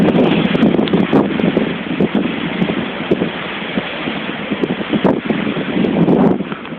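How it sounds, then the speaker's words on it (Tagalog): Strong typhoon wind from Typhoon Falcon blows in a loud, continuous, gusting roar with rustling and buffeting throughout. "Pakikinig po mga kaibigan itong mga hangin."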